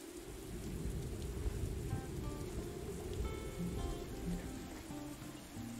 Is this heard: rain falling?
yes